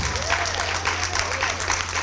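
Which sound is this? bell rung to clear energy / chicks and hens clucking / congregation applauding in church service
congregation applauding in church service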